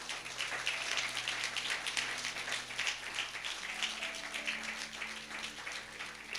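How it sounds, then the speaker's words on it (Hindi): A church congregation applauding during a Sunday service, steady dense clapping from many hands that fills the room evenly and continues throughout without a break, with some sustained tones underneath. "परमेश्वर के लिए और जोरदार ताली बजाएंगे।"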